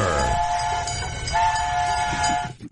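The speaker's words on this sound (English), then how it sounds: "The train's pulling in." A train pulls into a station, its horn sounding a long, steady two-tone blast over rumbling wheels and rail noise, close and loud, before the sound cuts off near the end.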